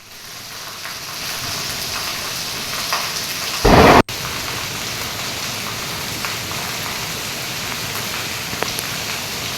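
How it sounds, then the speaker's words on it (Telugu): Heavy, steady rain pours over the city of Hyderabad with a dense hiss, interrupted midway by one sharp, loud thunder crack that cuts off abruptly; no voices. "నగరంలో ఉదయం నుంచి ఎడతెరిపి లేకుండా వర్షం పడుతోంది."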